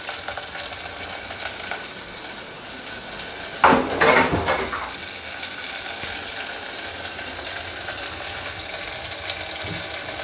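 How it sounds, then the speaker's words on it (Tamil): Garlic and onion sautéing in a pan for a fenugreek coconut milk kuzhambu, a steady close sizzle with a brief clatter of stirring near the middle and no talking. "பூண்டு, வெங்காயம் ஒரு நிமிஷம் அளவுக்கு வதக்கினா போதும்."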